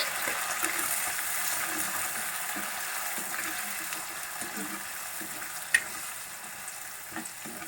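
Ginger, green chili and curry leaves are tempered in hot oil for pongal, giving a steady close sizzle and frying hiss with faint stirring sounds.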